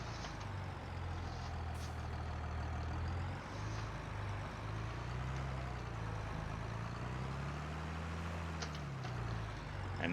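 A tractor in a farming video game pulls a slurry tank, its steady low engine drone rising and falling in pitch as it works, continuous and fairly loud with no voices.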